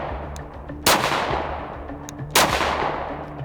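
Two sharp, loud gunshots from a 5.7 pistol ring out about a second and a half apart at close range, each cracking then decaying.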